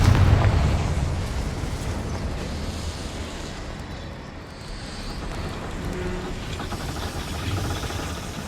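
A Confringo blasting curse goes off in the Hogwarts Legacy video game as a loud, deep boom at the start, then a long rumbling roar slowly fading and swelling again through the rest of the clip.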